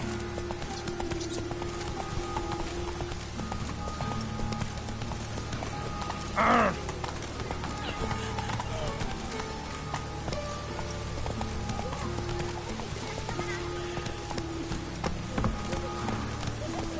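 Horse hooves gallop in The Witcher 3, a steady rhythmic clip-clop running throughout at moderate loudness, with a single whinny partway through over low ambient game sound.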